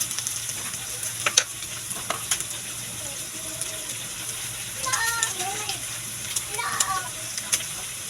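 Tomato sauce going into a hot frying pan, a steady soft sizzle with stirring clinks, heard up close under a speaking voice.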